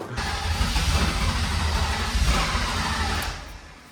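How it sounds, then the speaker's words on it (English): Aftermarket eBay turbo kit on a low-budget BMW E36 drift build in a garage whirs and rushes steadily at close range, a broad airy hiss over low engine rumble lasting several seconds before easing off. "Also der Turbo dreht sich schon mal."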